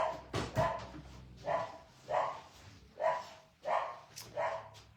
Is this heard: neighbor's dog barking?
yes